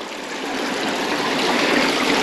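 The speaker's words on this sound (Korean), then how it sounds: "이건 폭포네" A small mountain waterfall spills into a flowing stream in rural Hapcheon, a loud, steady rushing and splashing close by with no voices.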